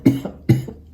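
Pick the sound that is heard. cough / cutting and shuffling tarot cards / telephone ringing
cough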